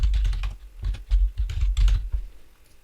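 Rapid typing on a computer keyboard while entering account details in an Android app, a dense run of close clicking keystrokes in bursts that trail off at the end, with no talk.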